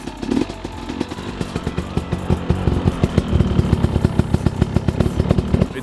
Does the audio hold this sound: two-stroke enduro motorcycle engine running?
yes